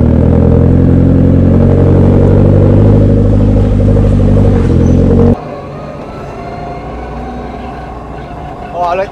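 A Ford Escort Cosworth rally recce car drives with a loud, droning engine and gearbox whine from inside the cabin, cutting abruptly to quieter cabin noise as the throttle lifts, with voices talking over it.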